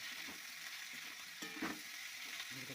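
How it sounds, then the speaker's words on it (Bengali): Potatoes and lata fish frying together in a wok, a steady close sizzle with occasional scraping stirs of the spatula, no voices. "এবার আলুটা কুয়ের মধ্যে দিয়ে দিলাম কারণ দুটোকেই ভেজে নিতে হবে সুন্দর করে"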